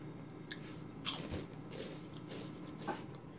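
Crisp bites into a sweet garlic Korean corn chip, one sharp crunch followed by quieter close-up chewing crackles, faint and near with no talking.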